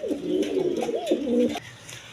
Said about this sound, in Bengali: মসলদম কবুতর।